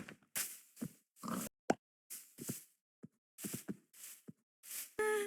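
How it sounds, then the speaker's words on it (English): Pigs in a video game farm enclosure with a mud hut give a run of short grunts and oinks in irregular bursts, close and fairly quiet, ending on a higher squeal. "Pigs just don't have much utility, aside from pork chops."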